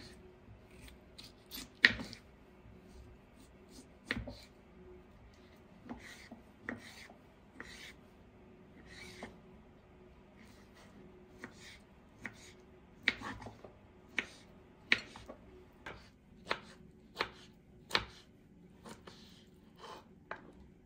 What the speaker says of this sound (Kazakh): Осылардың барлығын 4 бұрышты тәріздес етіп турап аламыз